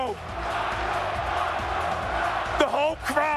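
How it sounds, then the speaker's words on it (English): A large crowd at a fighting-game tournament event roars and chants for a player, a dense steady wall of voices. Near the end, a loud announcer's voice cuts in over the noise. "The whole crowd chanting for Nitro"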